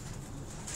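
Soft, low cooing from a Sialkoti pigeon, an 18-year-old bird kept in a Rawalpindi loft, a steady murmur throughout with a faint hiss of room noise.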